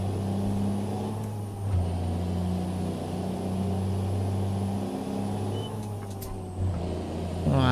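A steady, droning Kenworth W900 truck engine in American Truck Simulator rumbles continuously at an even pitch, with a brief hiss near the end and no talking.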